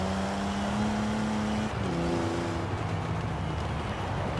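In Forza Horizon 4, a stock-engined Toyota 2000GT holds a steady engine tone, dips briefly, then revs on as backfire pops and crackles sound from the exhaust.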